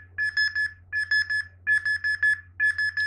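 A drowsiness detection program's alarm triggered by blinking sounds as four bursts of rapid electronic beeps, each burst of about four pulses, loud and shrill over a low steady hum.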